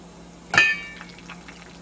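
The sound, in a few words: water poured over wild muscadine grape skins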